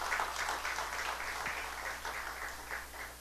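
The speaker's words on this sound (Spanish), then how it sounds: "Démosle un aplauso al Señor, yo creo que Él se lo merece" Congregation in a church breaking into applause, a soft, steady wash of many hands clapping heard at a distance.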